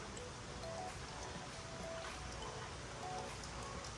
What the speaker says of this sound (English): It's raining here, it's coming down pretty hard.